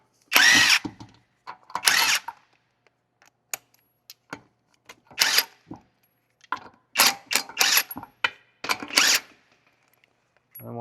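Short bursts of mechanical whirring sound as 22 mm wheel nuts are removed from a 2017 Honda Ridgeline, the bursts separated by quiet gaps and set close by.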